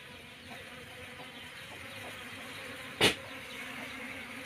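A steady, close buzzing drone of many wild honey bees being moved from a goat shed into a hive box, with one brief sharp knock partway through.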